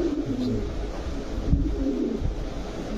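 Silver racer pigeons at a pigeon sale coo steadily in low, throaty murmurs, with several birds overlapping continuously and close by.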